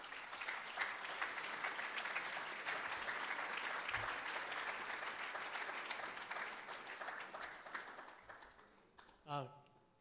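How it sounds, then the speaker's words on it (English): Sustained audience applause fills a fundraiser room for the canSURVIVE 2015 event, dense steady clapping lasting most of the stretch before fading out near the end. "give everybody a round of applause just for yourselves"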